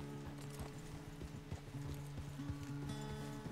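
Horse hooves clip-clop at a steady walking rhythm in the Red Dead Redemption 2 video game. The hoofbeats are close and clear over a low sustained musical drone, with no talking.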